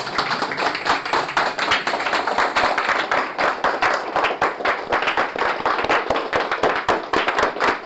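A standing ovation from a seminar audience, loud and continuous clapping with many sharp hand claps close by, steady throughout without talk.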